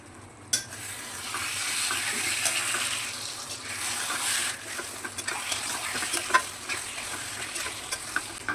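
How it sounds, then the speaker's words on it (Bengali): Mutton sautéing in a pan for mutton curry, a loud, continuous sizzle with scraping and stirring noises from a utensil, close and alone without voices. "এইভাবে ভালো করে মাটনটাকে কষতে হবে"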